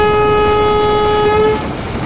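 A WAP4 electric locomotive in the Train Simulator Classic game sounds a loud, steady horn tone for about a second and a half, then cuts off, leaving a rumbling background.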